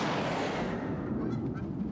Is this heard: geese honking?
yes